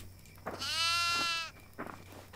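A goat bleats once in a video game, a single drawn-out harmonic bleat of about a second, fairly close, followed by faint shuffling.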